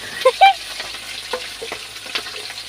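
Vegetables with fenugreek are stirred while frying in a pan, producing a soft background sizzle with scattered scraping strokes and a few brief faint voice sounds near the start.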